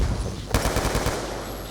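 Loud, close gunfire from a three-round burst rifle in Call of Duty Black Ops 2 multiplayer against bots, a rapid series of sharp shots packed into under two seconds.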